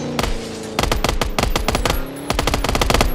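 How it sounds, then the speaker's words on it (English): Rapid automatic gunfire from a video game, delivered in several sustained bursts with short pauses between them, loud and close, with no talking over it. "I'm being shot by someone."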